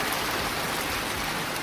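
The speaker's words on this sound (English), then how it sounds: "I sure do love the rain." Steady spring rain falls outdoors at a building site, a continuous even hiss of dense drops with no breaks and no voices.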